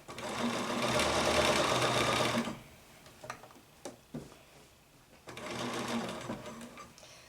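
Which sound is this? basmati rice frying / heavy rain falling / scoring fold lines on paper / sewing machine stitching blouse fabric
sewing machine stitching blouse fabric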